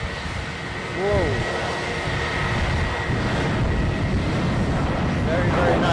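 A KlasJet airliner takes off at Edinburgh airport, a steady roaring jet engine rising and whining at a distance while someone briefly exclaims over it.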